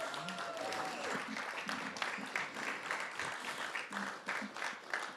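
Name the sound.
round of applause at a press announcement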